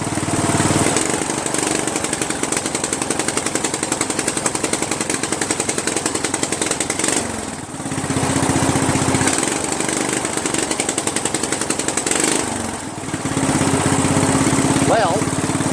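Craftsman 13.5 mid rear engine riding mower running and refusing to shut off, a loud steady close engine drone with rapid pulsing, dipping briefly twice before resuming at full strength.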